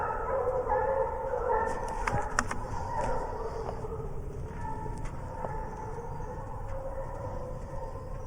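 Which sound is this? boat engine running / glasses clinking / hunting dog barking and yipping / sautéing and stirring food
hunting dog barking and yipping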